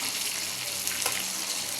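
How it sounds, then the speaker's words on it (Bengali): Pieces of catla fish frying in hot oil in a pan, a dense, steady hiss and crackle heard close up without interruption. "মাছগুলো সুন্দর করে ভেজে নেব।"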